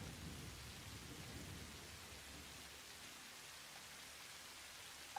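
Rain and thunder weather in the video game Satisfactory, a steady hiss of rainfall on surfaces with low rumbling thunder underneath, faint and continuous without talk.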